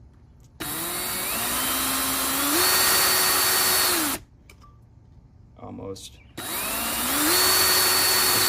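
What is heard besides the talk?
power drill drilling through carbon fiber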